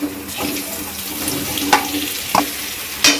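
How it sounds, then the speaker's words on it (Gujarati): Patra and green chillies fry in a pan with a constant, hissing sizzle close up, broken by a few sharp clicks and scrapes of stirring; no one speaks. "મરચાં આપણે એક મિનિટ સુધી આ રીતે પકવા દઈશું"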